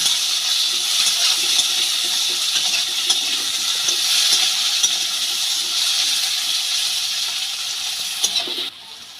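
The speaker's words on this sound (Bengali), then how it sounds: "আলু পেঁয়াজ ভালো করে ভেজে নেব" Potatoes and onion frying in a pan give a steady, close, bright sizzling hiss that holds for about nine seconds and eases slightly just before the end.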